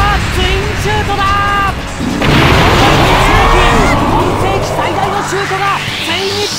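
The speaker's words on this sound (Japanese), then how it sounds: "シュートがついに爆発。" A Drive Tiger Twin Shot strikes in the Captain Tsubasa football video game on PlayStation 4, a loud booming burst over crowd noise and game music, with talk throughout.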